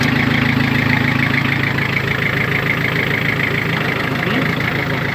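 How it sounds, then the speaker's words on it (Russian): A Mitsubishi MT2201 two-wheel-drive mini tractor runs with its power take-off engaged, giving a continuous close engine drone with a rapid low knock, loud and unchanging throughout, with a voice partly under it. "Давайте вал отбора мощности включим."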